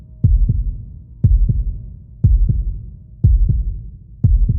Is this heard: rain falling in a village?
no